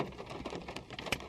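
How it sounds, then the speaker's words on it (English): Heavy rain drums steadily and loudly in a dense continuous patter with no talk over it. "Oh, the rain's really loud."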